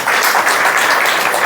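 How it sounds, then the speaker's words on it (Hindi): Loud, dense audience clapping welcoming a guest at a Hindi-language memorial tribute program, a brief, close burst of many hands at full strength. "जोरदार तालियों से उनका स्वागत किया जाए।"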